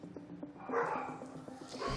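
Dogs at an animal shelter in Tenerife bark and yip in a busy, overlapping chorus, with a louder burst midway and whimpers mixed in, heard without any talk over it.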